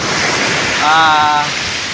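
Ocean waves at a beach, a steady broadband wash of surf with a swell in the middle, heard close with wind noise on the microphone.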